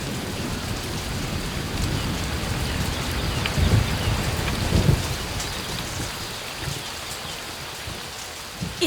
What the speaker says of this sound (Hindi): मूसलधार बारिश है कि किसी का चेहरा नहीं दिख रहा है।